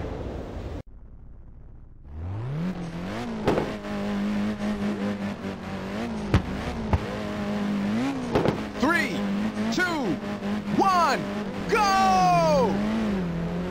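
Race cars in the Ridge Racers 2 video game roar off the line at the Midtown Expressway start, engines revving up and holding a steady drone, with tire squeals and shifting engine pitch over game music.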